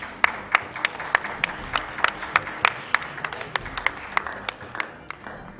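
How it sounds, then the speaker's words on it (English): Applause at a school quiz competition, a small group clapping in sparse, uneven sharp claps that thin out toward the end, fairly faint and without talk. "that brings us to the end of round 2 with a round of applause"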